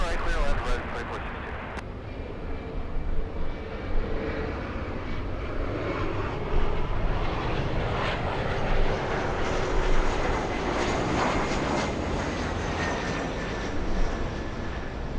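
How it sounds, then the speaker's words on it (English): A Qantas Airbus A380 airliner passes near LAX, a loud, sustained broadband engine roar that stays steady throughout, with a person speaking over it. "The Qantas A380."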